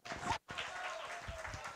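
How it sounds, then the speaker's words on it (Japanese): An audience at a school summer festival magic show gives a round of applause. The clapping resumes after a brief silent gap, and voices are mixed in. "拍手をお願いします。"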